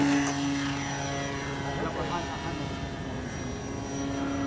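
An FMS Ranger 1800mm RC airplane flies steadily overhead with a continuous propeller drone that holds a strong tone at roughly constant loudness.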